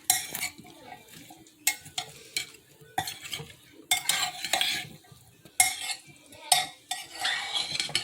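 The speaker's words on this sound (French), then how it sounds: "je mélange tous les condiments ensemble" Condiments are stirred together in a bowl for an attiéké and fish recipe, a spoon scraping and clinking against the bowl in repeated bursts of close, rhythmic mixing with brief pauses.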